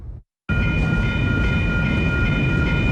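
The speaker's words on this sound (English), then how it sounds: "the train that crosses through her street daily" A train rumbles loudly past close by on tracks running through a residential street, a steady heavy roar with a sustained horn tone after a brief moment of silence.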